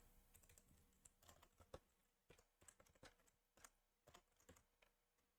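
Numbers are tapped out on a computer keyboard in a quiet room, a sparse run of soft, separate keystrokes ending with one sharper, louder clack.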